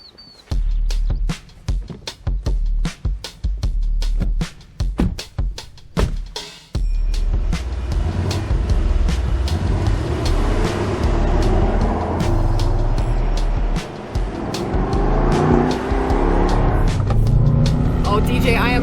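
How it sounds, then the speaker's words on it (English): A 2021 Mercedes-AMG E63 twin-turbo V8 pulls away with a loud, sustained engine roar from about the seven-second mark, rising in pitch. Sharp clicks and knocks come before it, and voices talk over the drive. "DJ, I am loving that signature V8 sound."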